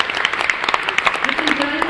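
Audience applause for a singer at a poetry-song competition, a patter of clapping running underneath a presenter speaking over it.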